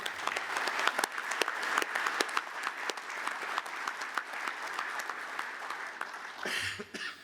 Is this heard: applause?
yes